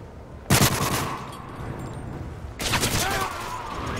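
Video game gunfire in a team match, with two loud bursts of rapid automatic fire, the second starting about two seconds after the first ends, while players talk in the background.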